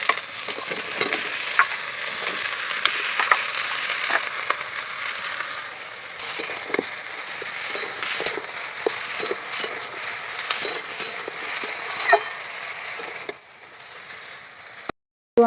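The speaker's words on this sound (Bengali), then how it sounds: "এবার এগুলো দিয়ে আমি ভালো করে ভেজে নেবো একসাথে।" Potatoes and pumpkin fry together in a pan, a steady close sizzle with frequent scraping stirs and light clinks, fading slightly near the end.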